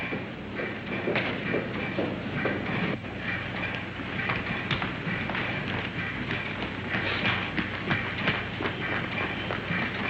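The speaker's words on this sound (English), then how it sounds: "does this train stop at Nice?" A train rumbles steadily along the rails, with rhythmic clattering wheels and a continuous mechanical roar throughout, and no voices.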